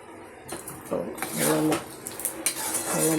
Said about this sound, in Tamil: நல்லா மிக்ஸ் பண்ணி விட்டுறோம்.